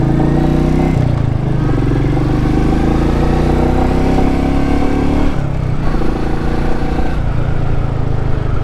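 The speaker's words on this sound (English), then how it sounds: "Nice smooth engine." A barely run-in Royal Enfield motorcycle with about 945 miles on it, its engine running steadily and smoothly while ridden, a close, continuous thrum with slight shifts in pitch and no voices.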